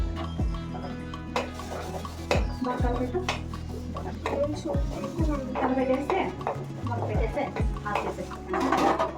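Food is stirred and mixed in a bowl, with repeated scraping and clinking of utensil against dish while a person talks intermittently.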